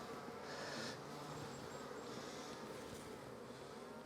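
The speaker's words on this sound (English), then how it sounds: "This is where we shake extra bees in, and if we find the queen, we cage her." Honey bees buzz around an open beehive shaker box during queen cell building in a strong nectar flow, a steady, soft, dense hum that continues without a break throughout.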